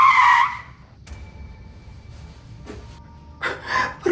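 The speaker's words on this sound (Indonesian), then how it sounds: "Berhenti juga ya itu mobil." A car skids to a stop with a loud tire screech at the start, then a quieter stretch and a second harsh skid burst near the end.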